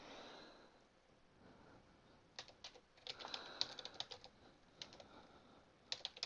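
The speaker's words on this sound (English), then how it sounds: "just type flist." A computer keyboard being typed on to enter a command in a game, with faint scattered clicks that pick up into a quick run of close, crisp keystrokes and a few final taps.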